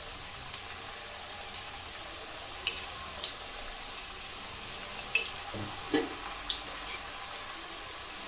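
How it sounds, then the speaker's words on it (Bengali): Fenugreek leaf nimki dropped into hot oil on lowered flame, a quiet bubbling sizzle with scattered small pops and clicks from the pan and spatula, fairly faint and steady, with no talk. "এবার আমি আস্তে আস্তে আমার নিমকিগুলোতে এর তেলের মধ্যে আমি ছেড়ে দেবো"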